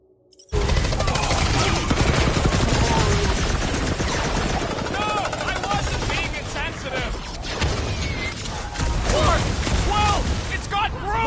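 Loud, dense gunfire and blasts from a boss fight against a huge bug in Marvel's Guardians of the Galaxy, continuous rattling shots and whooshing effects under shouting character voices.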